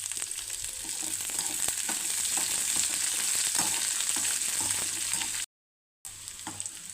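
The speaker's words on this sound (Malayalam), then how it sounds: "അപ്പോൾ നമ്മുടെ വെളുത്തുള്ളി കൂടെ വഴണ്ട് വന്നിട്ടുണ്ടേ" Garlic and green chillies with a little salt frying in a pan for garlic pickle, a soft steady sizzle with small crackles and stirring scrapes, briefly cut off near the end, no talk.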